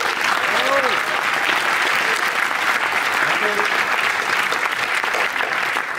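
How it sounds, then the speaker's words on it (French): An audience at a French film critics' awards ceremony applauds steadily and loudly, dense continuous clapping filling the room while a host briefly speaks over it. "on les applaudit tous les 3"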